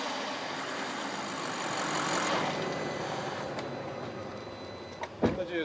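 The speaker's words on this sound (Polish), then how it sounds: "A teraz spróbujmy przegazować i zobaczyć, usłyszeć właściwie, jak to brzmi" A 2014 Audi RS6 Avant with a 4.0 V8 heard from under the open hood: a broad, steady engine roar that swells mid-clip and then settles, with a few sharp clicks and knocks at the end.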